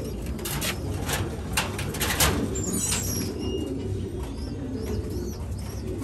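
Pigeons in a breeding loft coo softly throughout, with occasional wing flutters and chirps against a steady background hum, and no voices.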